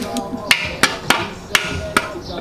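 A World War II-era hammer strikes something in five or six sharp, evenly spaced blows, loud and close, over a quiet background.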